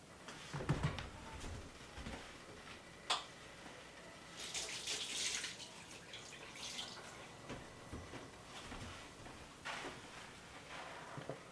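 Water runs and splashes into a pot being filled for dyeing bulky yarn, faint and close, with intermittent pouring bursts, drips and light handling clatter.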